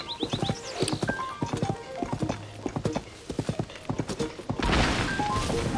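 A horse's hooves clop rapidly and rhythmically at a gallop in the video game Zelda: Tears of the Kingdom, with a brief whinny and clatter toward the end, loud and close.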